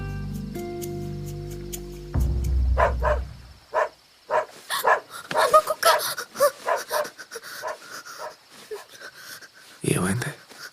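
A dog barks repeatedly in short, loud bursts, close by, after a musical lead-in, with a final yelp near the end; no talking is heard over the barking.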